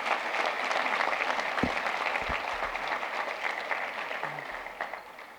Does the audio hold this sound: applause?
yes